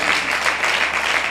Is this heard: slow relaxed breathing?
no